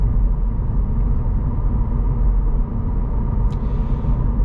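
Tire road noise inside a 2024 Cadillac CT4 V-Blackwing on performance tires, a steady low rumble and roar filling the cabin continuously, loud and unbroken.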